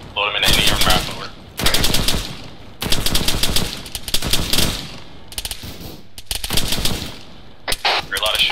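Automatic machine gun fire in the ARMA 3 military game on the Chernarus map comes in several loud, rapid bursts separated by short pauses. Faint voices may sound between the bursts.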